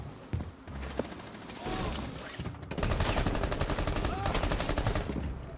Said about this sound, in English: Okay, they're shooting already.